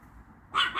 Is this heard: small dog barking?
yes